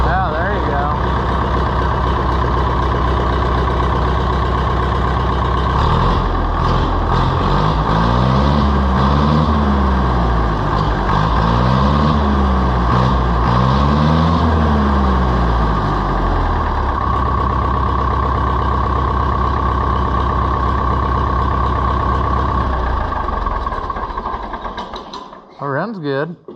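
An old four-cylinder tractor engine runs loudly and steadily up close, its pitch wavering through a few surges in the middle before the sound cuts off near the end, with people talking over it.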